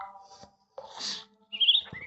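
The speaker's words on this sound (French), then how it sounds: "On a droit à une battle entre un oiseau noir et un oiseau blanc." Birdsong from the smartphone narrative game Reigns: short, clean bursts of chirping and tweeting separated by brief silences, close and fairly quiet.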